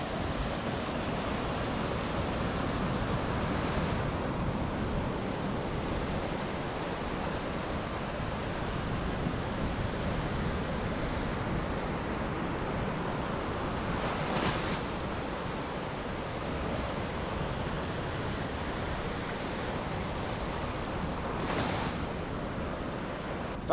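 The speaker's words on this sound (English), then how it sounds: "Waves are really rocking and rolling today." Ocean surf rolling onto a Florida Panhandle beach, a continuous, fairly loud wash of breaking waves with a couple of brief swells and some wind buffeting, no one speaking.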